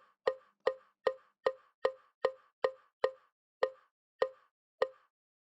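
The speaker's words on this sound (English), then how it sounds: "Here's the woodblock." A physically modeled synthetic woodblock struck eleven times in a steady, slightly uneven rhythm, each knock short, dry and hollow with a quick decay, heard alone and close.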